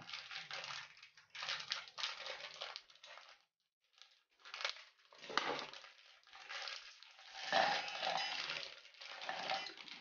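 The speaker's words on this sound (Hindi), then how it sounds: "इनका हमें फाइन पाउडर बनाकर तैयार करना है।" Parle-G biscuits ground into fine powder in a grinder jar, a loud rough crushing and rattling in bursts with a brief pause midway, no voice.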